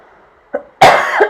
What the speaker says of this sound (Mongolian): За ханиалгаад байгаа учраас уучлаарай.